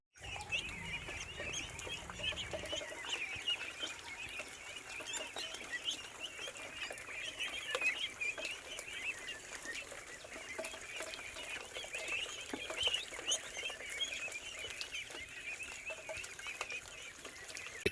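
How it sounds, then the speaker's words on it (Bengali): Khaki Campbell ducklings about a month old at a walled duck farm chirp and peep continuously as a busy, overlapping chorus, fairly close, with faint rustling beneath. "তো অল্প কিছু খাকি ক্যাম্বেল হাঁস আছে যে আপনার হাঁসগুলো দেখতে পারতেছেন"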